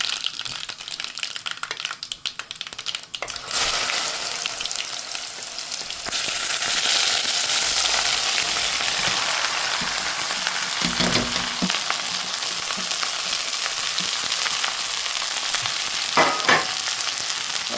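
Mustard seeds and sliced okra fry in hot oil, starting with a loud, steady sizzle and crackle that grows denser as the okra goes in. The sizzle stays close and continuous, with occasional stirring scrapes.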